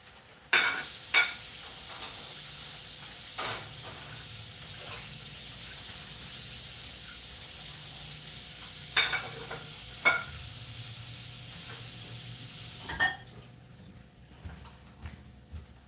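An egg sizzles steadily in a hot pan at home breakfast, with scattered scraping and clinks of a utensil sliding it back in, then the sizzle drops away near the end.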